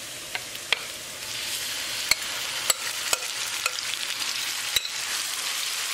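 Marinated beef stir-fries in a hot pan for a bell pepper and beef tenderloin dish, a steady close sizzle broken by sharp scattered crackles and pops, with no voices.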